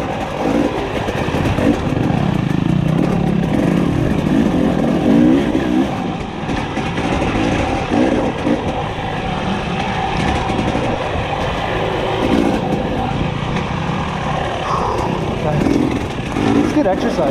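A Husqvarna TE300i dirt bike engine on a trail ride, revving and bogging continuously up close with fluctuating throttle, while a rider talks over it.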